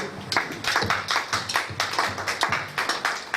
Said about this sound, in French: Est-ce qu'on peut encore applaudir pour la parole?